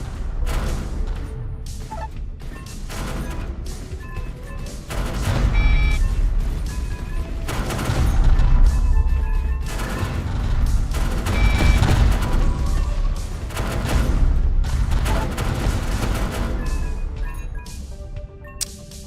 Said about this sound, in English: Let's do chain reaction level 2. Secondary explosions